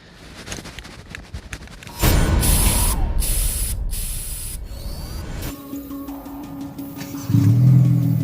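Yellow spray paint hisses from an aerosol can in several close, loud bursts, broken by short pauses, followed by a steady low hum and some faint clicks.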